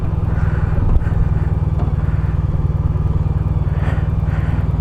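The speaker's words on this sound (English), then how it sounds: "And I'm on my way to work this morning on my bike." A motorcycle ridden on a cold morning commute produces a loud, continuous low engine rumble with steady throbbing pulses, heard close up along with wind buffeting and no one talking.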